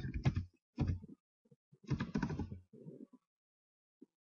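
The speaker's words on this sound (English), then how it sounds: "So what you have to do is type in Japanese Kasai." Keys clatter on a computer keyboard in short bursts as Japanese text is typed, close, dry clicks grouped into several quick runs separated by pauses, ending with a single tap.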